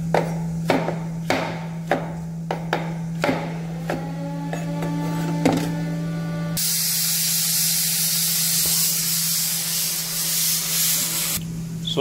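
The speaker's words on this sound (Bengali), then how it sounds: "যেটাকে আমি রাফলি কেটে একটা মিক্সি জারের মধ্যে ব্লেন্ড করে নেব।" After a run of close, sharp knife taps, a mixer grinder starts blending tomatoes into puree, roaring loud and steady for about five seconds before stopping abruptly, over a constant low hum.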